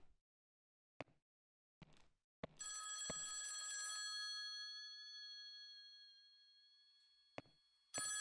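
A telephone bell rings inside a house in a video game. A few sharp knocks or clicks come first, then a long metallic ring that slowly fades, and a second ring starts at the end. Nobody speaks.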